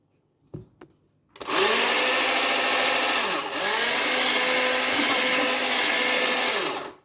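An electric hand mixer starts after a couple of faint knocks and whirs steadily and loudly through cake batter with cinnamon in it, with a brief dip in speed midway before it stops.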